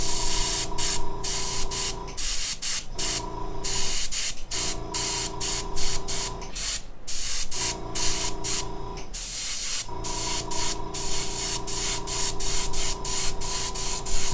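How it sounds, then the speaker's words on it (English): Airbrush spraying face paint, a loud continuous close hiss broken into bursts by short pauses as the trigger is released and pressed again, over a steady compressor hum. "I'm going to switch back to the other airbrush."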